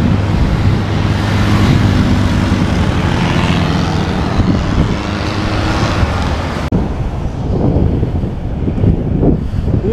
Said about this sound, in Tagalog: Sarap ng malamig na hangin.